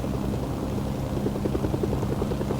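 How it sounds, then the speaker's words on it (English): Helicopter in the video game Mercenaries, a steady rotor thrum with rhythmic blade chop holding at an even, moderate level throughout, with no voices. "The SK officer is getting on board the helicopter."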